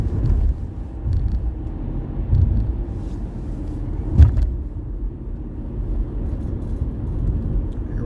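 A car drives along the winding curves of Lincoln Drive, its steady low engine and road rumble continuous and close, with one brief louder thump partway through.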